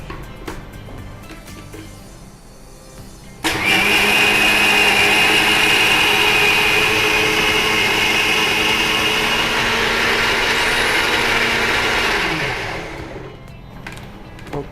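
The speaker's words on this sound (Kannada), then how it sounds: "ಇಷ್ಟನ್ನ ಈಗ ನೈಸಾಗಿ ಗ್ರೈಂಡ್ ಮಾಡಿ" A mixer grinder grinds kaltappa batter, starting abruptly with a loud, steady motor whine and whir that runs for about nine seconds before winding down; no talking.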